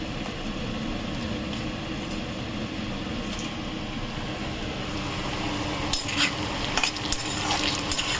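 Potatoes and onions frying together in a pan: a dense, continuous sizzle with scraping stirs, and sharper clinks and spatters toward the end, close and steady with no speech.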